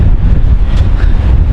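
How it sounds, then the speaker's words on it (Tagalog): Strong gusting wind at Big Sur buffeting the microphone, a loud, rumbling roar that fills the whole short moment without any voices. "Grabe yung hangin"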